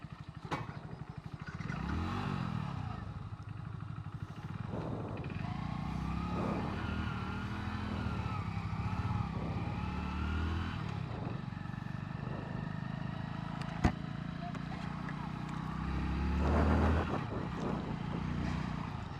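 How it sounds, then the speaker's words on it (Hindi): A Hero HF Deluxe Pro 100cc motorcycle engine runs steadily while riding, with a low throbbing drone that rises and falls through gear changes, close and continuous. "स्टार्ट है बाइक"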